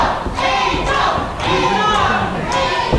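A wrestling arena crowd roars steadily behind a babyface wrestler during a rear naked chin lock, with loud continuous cheering, scattered shouts and a few thuds throughout.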